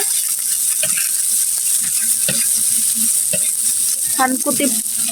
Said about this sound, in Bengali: তো এখন পেঁয়াজটা হালকা ভাজা হবে